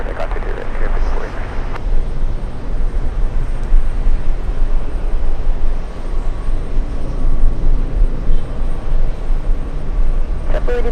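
A jet airliner roars down runway 22 right at JFK on takeoff, a loud, sustained broadband rumble that holds steady throughout, with a radio voice briefly audible near the start.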